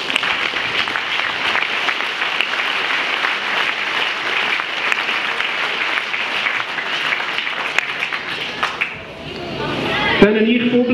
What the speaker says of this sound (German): Dann an euch alle zusammen einen riesengroßen Applaus.